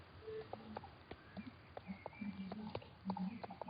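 Hoofbeats and horse sounds from the Star Stable video game as a horse runs off, heard as scattered light clip-clops and brief tonal calls over a thin, band-limited game soundtrack.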